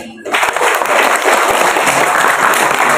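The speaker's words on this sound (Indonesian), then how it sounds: "Itu tepuk tangan untuk beliau." An audience at a Buddhist community address in Riau bursts into applause after a brief quiet start, then sustains a loud, dense clapping through to the end.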